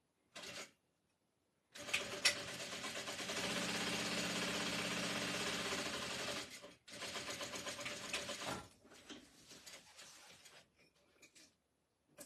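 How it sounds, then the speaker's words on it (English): A sewing machine stitching a seam across layers of a crossbody bag, running in two quick whirring bursts separated by short pauses, close and clear with no talking. "I'm going to sew across here."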